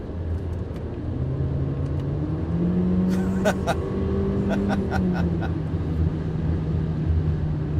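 A 2018 Honda CR-V VTi L seven-seater front-wheel-drive SUV with a slipping clutch drones under acceleration, its engine pitch rising and falling as it downshifts, accompanied by a few sharp clicks inside the cabin.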